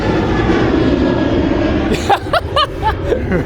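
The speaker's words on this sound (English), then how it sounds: "Planes keep coming by, bro. San Jose, SJC." An airplane passes overhead near San Jose airport, a loud broad engine roar filling the scene, with a brief burst of chatter from people nearby toward the end.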